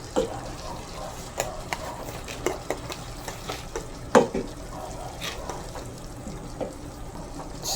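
Chicken pastil being stirred in a pot with its boiling broth added, giving soft wet scraping and spoon knocks in an irregular rhythm, close and moderately loud, with faint talk in the background.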